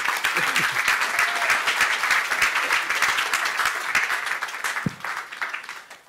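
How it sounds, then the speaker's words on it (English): Audience at a live masterclass event clapping in a sustained round of applause, many hands at once, loud and steady before thinning out toward the end. "A round of applause, please."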